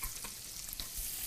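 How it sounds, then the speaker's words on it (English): Rice, sliced garlic and marinated meat stir-fried in a wok, with steady close sizzling and scraping stirs running throughout the short stretch. "Stir fry."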